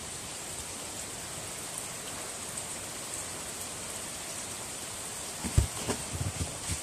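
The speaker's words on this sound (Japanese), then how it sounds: "さっきはちょっと激しく降ってたんですが、 今小降りです。" Light rain falling during a typhoon in Israel, a steady soft hiss of drops on surfaces, continuous and even, with a couple of brief knocks near the end and no talk.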